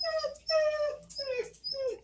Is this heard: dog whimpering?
yes